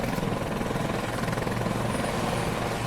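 A helicopter in the roguelike game Rob a Bank, its rotor whirring in a steady, dense drone that holds at an even level for a few seconds with no speech.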